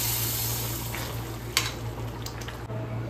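Kasuri methi dropped into hot oil as a tempering over a potato curry, a dense close sizzle with a couple of light utensil clicks, no voices.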